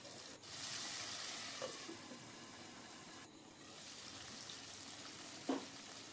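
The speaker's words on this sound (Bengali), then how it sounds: "দু পিঠ ভালো করে ভেজে নিলাম চিকেনটা" Chicken pieces frying in a pan, browned on both sides for chicken kabri, give a steady quiet sizzle throughout, with a couple of brief clinks.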